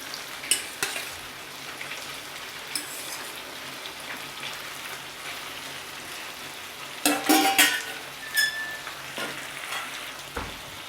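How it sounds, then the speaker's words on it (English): Saltfish sautéing with okra in a pan for a Jamaican breakfast: a steady soft sizzle runs throughout, with a cluster of sharper utensil scrapes and clinks near the end. "Saute the saltfish for about 2-3 minutes. Now I am going to add the okras."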